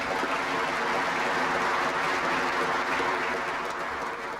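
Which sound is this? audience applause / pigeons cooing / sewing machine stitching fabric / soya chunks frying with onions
audience applause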